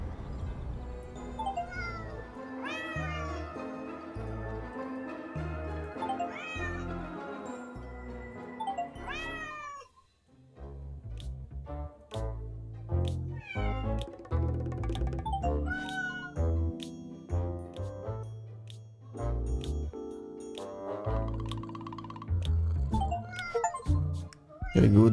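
Repeated cartoonish cat meows from the spooky-town hidden-object game Hidden Cats in Spooky Town, popping up one after another over continuous game music.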